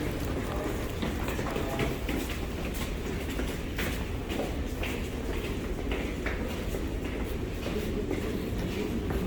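A Moscow metro train rumbles along with rhythmic clattering and rolling noise, loud and continuous, with indistinct voices mixed in.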